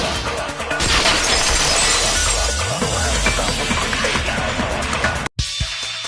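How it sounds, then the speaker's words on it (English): A vase shattering in one loud crash, followed by several seconds of sustained ringing, scattering debris before an abrupt cut. "If it wasn't the window, then what broke to make that sound? A vase."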